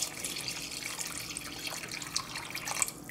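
Water pours steadily into a slow cooker while making spicy chicken soup, a soft continuous trickle and splash heard close up and fairly quiet, with no talking.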